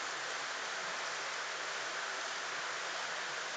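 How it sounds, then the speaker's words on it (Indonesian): Heavy rain pours in a dense, continuous hiss that fills the whole stretch evenly, steady and fairly faint, with no voices. "Hujan deras."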